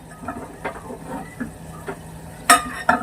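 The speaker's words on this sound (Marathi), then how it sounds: "दोन्ही भाज्या इथे शिजतायत" Two vegetables cook together in a pan, giving a soft, low sizzle with gentle stirring scrapes and a few sharp utensil clinks near the end, close by and without speech.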